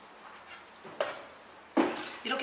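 A kitchen knife halves peeled shrimp on a cutting board during Chinese spring-roll prep, giving two crisp, close blade knocks with faint scraping between them and no talk.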